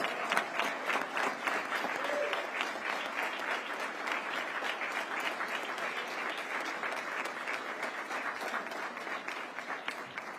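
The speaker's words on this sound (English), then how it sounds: "Give yourselves a round of applause" Steady, even applause fills the room at a police community relations awards ceremony as law enforcement family members stand, a dense crowd clapping continuously for about ten seconds at moderate volume.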